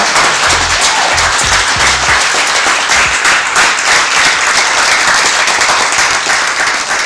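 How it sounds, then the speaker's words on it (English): Audience applauding young performers at an evening show, steady loud clapping from many hands throughout, with a low rumble briefly underneath at the start. "I think they deserve a big clap"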